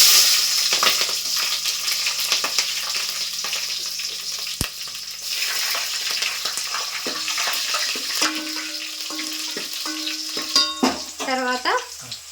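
Green chillies hiss and crackle in hot oil in a pan, a steady broad sizzle with scattered pops and occasional utensil clinks, fairly close and continuous with no talking.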